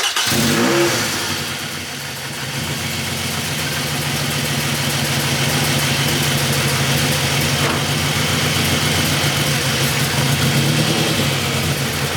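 A Scion tC engine fitted with a high-output alternator idles steadily with a low, even rumble after a brief start-up surge, no talking over it.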